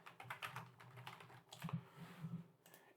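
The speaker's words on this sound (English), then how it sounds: "let's start to type in some information there" Fast, quiet typing on a computer keyboard while text is entered into a spreadsheet, a light flurry of soft clicks close by.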